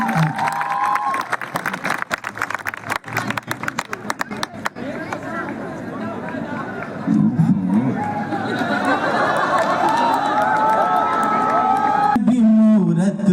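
Audience applause and cheering for a poet at a Hindi poetry gathering, dense clapping that swells and continues with crowd noise, a voice briefly heard over it near the end.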